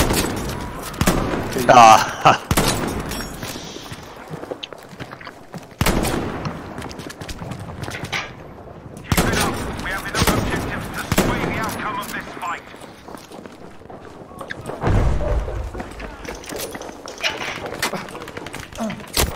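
Bursts of hip-fire gunfire from an enemy soldier in the video game Battlefield V, irregular rapid shots mixed with game effects, while players talk and react over it.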